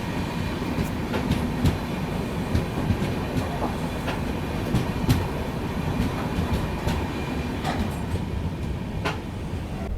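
AC Express train pulls slowly out of a loop line, a steady rumble from inside with scattered wheel clicks and clacks over track joints.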